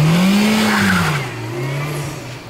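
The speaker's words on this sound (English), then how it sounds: "Just go do some burnouts." A car engine revs up and then eases down during a burnout session, a loud close mechanical drone with a rising and falling pitch and a hiss of tires behind it.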